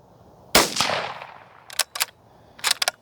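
Unsuppressed 17 HMR rifle shot at a rock on an outdoor range, one sharp loud crack with a decaying tail, followed by a few short fainter bursts.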